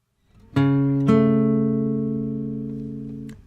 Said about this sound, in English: Now if we invert that, it becomes a minor sixth.